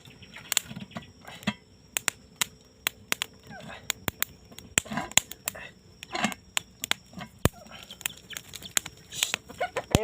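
Chickens cluck and squawk in short bursts close by, a scatter of sharp clucks and knocks over a steady background, with no clear talk.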